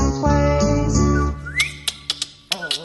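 A performer whistles a bright, sustained melody in a children's song, over gentle instrumental accompaniment, followed by short, chirpy whistled notes.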